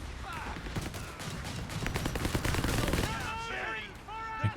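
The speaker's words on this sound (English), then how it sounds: "Making use of the suppressing fire mode on the flak." Rapid flak gun suppressing fire in the Company of Heroes 3 wartime strategy game, a dense stream of loud, sharp bursts rattling continuously with other battle noise, while voices are heard over the gunfire.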